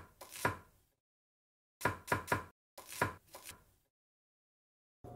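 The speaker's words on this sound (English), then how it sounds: "So now that I have my onions peeled, we're gonna slice them into" A knife slices peeled onions on a cutting board in crisp, close chopping strokes that come in short bursts of two to four, separated by quiet pauses.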